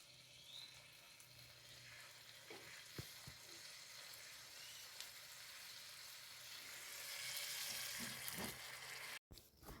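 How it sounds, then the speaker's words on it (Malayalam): Cooked beef pieces frying with onions in ghee give a soft, continuous sizzle with occasional stirring scrapes, fairly faint and growing slightly louder toward the end. "അപ്പോൾ നമുക്ക് ഈ ഉള്ളിയിലേക്ക് ബീഫ് ഇട്ട് കൊടുക്കാം ഗൈസ്"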